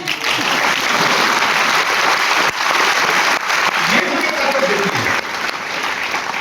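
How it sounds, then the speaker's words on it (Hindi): Audience applause at a talk in Jammu: loud, dense clapping from a crowd that fills the room and holds steady, with a couple of brief dips. "आप जब ताली दे रहे हैं ना"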